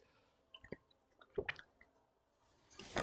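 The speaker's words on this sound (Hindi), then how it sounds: "जस्ट अ मिनट, मुझे पानी पीने दो गाइस" Someone drinking water, with a few soft, wet gulps and mouth squishes scattered across a quiet stretch, close and faint, ending in a slightly louder swallow.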